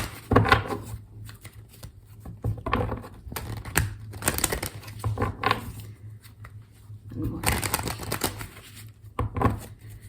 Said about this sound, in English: I'll just give it 1 or 2 more good shuffles